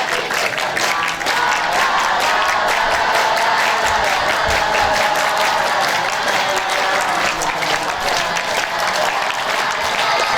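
A large crowd claps together in a dense, steady burst of applause at a scout-themed competition, loud and close throughout with no spoken voice over it.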